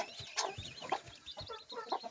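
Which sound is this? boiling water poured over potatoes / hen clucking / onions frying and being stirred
hen clucking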